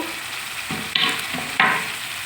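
Grated carrot frying in a pan, a close, steady sizzle broken by two sharper scraping stirs.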